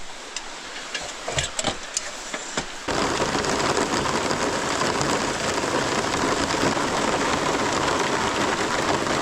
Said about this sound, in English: I really needed rain right about now.